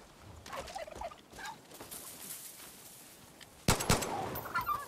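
Mutated turkey in Far Cry New Dawn gobbling in a few short rattling bursts, followed by a louder sharp crack of gunfire near the end.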